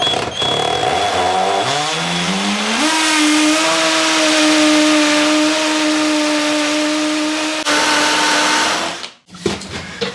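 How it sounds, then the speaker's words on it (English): A power drill bores holes into a brick wall, its motor whining up in pitch and holding a sustained high tone for several seconds before cutting off abruptly near the end. "you just want to drill your holes through a wall"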